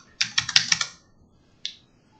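Computer keyboard keys pressed in a quick burst of about six crisp clicks, then a pause and one more single click, close and clear against a quiet room.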